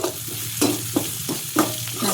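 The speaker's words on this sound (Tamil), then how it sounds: "நல்லா கிளறி விட்டுக்கலாம்." Spices and onions stirred in a pan for Tamil-style poori masala, with a spatula scraping in several separate strokes over a low sizzle, close and fairly loud.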